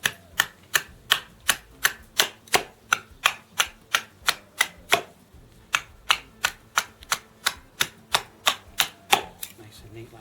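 An axe trims a piece of wood into a tent peg with a steady series of about thirty sharp, even chopping knocks, close and clear, spaced roughly every third of a second with little else around them.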